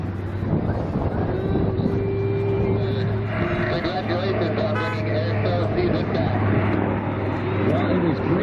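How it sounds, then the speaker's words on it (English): B-25 Mitchell bomber engines roar steadily from inside the cockpit during an airshow flight, a loud continuous drone with wind rush, muffled radio-style voices talking over it throughout. "Sometimes it gets so loud in the B-25 it's difficult for them to hear."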